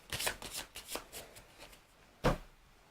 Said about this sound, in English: I'm going to shuffle them back in a moment and draw 3 new ones